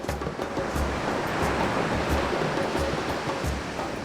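Large southwest-monsoon waves break steadily onto a white-and-yellow sand beach on the Andaman coast north of Phuket, near Mai Khao Beach, producing a loud, continuous surf roar with no voices.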